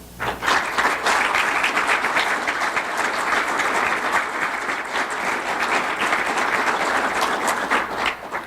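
An audience at a student scholar award ceremony gives sustained, dense applause, with many hands clapping steadily at an even level throughout and no voices over it.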